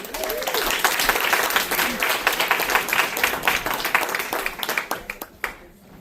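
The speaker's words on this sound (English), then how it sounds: "A thunderous applause for Stacy, Raye, Kellogg" A live storytelling-show audience applauds the emcee, a loud dense burst of clapping with a voice speaking underneath, thinning into scattered claps before dying away.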